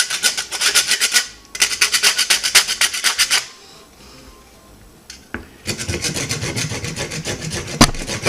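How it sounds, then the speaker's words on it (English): A wood rasp files a nylon dog chew bone in quick back-and-forth strokes, with two rapid bursts of rough rasping, a short pause, then a longer steady run of scraping up close. "Takes maybe like 5 minutes of intense sawing back and forth."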